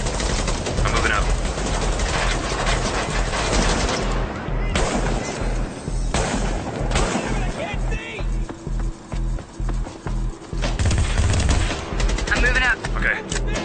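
Gunfire from the video game The Division fills the scene with rapid automatic bursts and sharp shots, loud and nearly continuous across the whole stretch, while players' voices come and go underneath.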